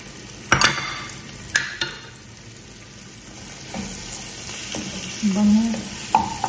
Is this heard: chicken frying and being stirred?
yes